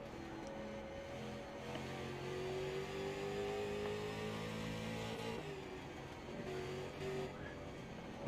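Race car engines drone steadily and loudly at close range in an iRacing sim race on a short oval track, with tight pack racing that gives overlapping engine notes shifting in pitch as the cars lap.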